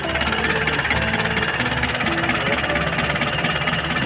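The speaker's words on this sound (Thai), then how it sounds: "นี่นะครับเครื่องยนต์นะ อ่า นิสสันพิกเอ็มฝาแดงนะครับอันนี้ BD 25นะ" A Nissan Big M pickup's BD25 diesel engine idles close by with a steady, rough knocking rumble and constant vibration, no voices.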